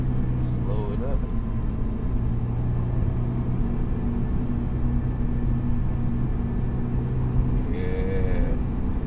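A Honda S2000 AP1 drives with a steady low engine drone and road rumble from inside the cabin, rising in pitch near the end as it revs, with a voice speaking over it.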